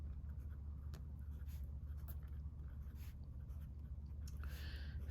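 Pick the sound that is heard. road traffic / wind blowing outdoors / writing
writing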